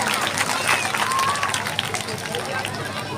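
Audience at a Bharat Mata Pujan gathering applauding in welcome of two organizers, a continuous crowd clapping with murmuring voices mixed in, loud and sustained throughout.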